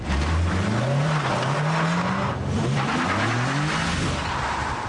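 A Nissan 350Z and a Honda S2000 sports car drive hard, engines revving in rising sweeps with repeated gear changes, loud and close with steady road and wind noise.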